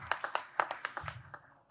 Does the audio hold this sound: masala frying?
no